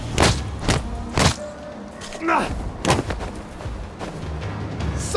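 Artillery fire booms in the video game We Happy Few, several heavy thuds spaced unevenly over a few seconds with rumbling in between, loud and close under a faint wash of background.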